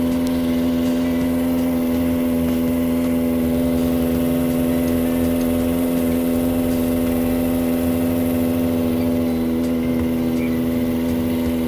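Kawasaki ZX25r inline-four motorcycle engine idling steadily while warming up in city traffic in Baguio City, a loud, even, continuous hum with a strong tonal drone and no speech.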